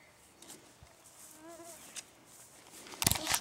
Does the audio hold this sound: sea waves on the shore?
no